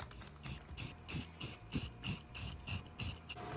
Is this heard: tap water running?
no